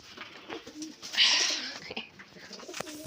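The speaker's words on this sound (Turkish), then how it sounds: "Güvercin yemliğin içine girmiş deriz." A pigeon trapped inside a feed bucket coos softly with rustling and scraping in the enclosed space, one louder burst of flapping or scuffling in the middle.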